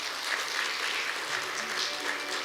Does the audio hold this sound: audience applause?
yes